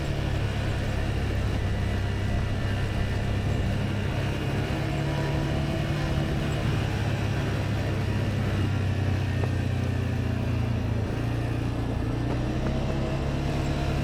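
A Cforce 520 ATV rolls slowly along, its engine a steady low rumble with continuous road and wind noise throughout, loud and close with no talking.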